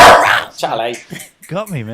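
Charlie the dog lets out a sharp bark at the start, then whimpers and yips close by while someone talks over it.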